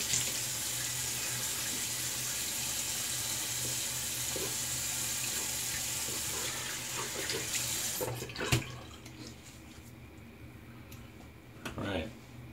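Water runs steadily from a bathroom tap for rinsing after a shave, a constant broadband rush that thins out toward the end, broken by a few brief clicks and splashes near the close.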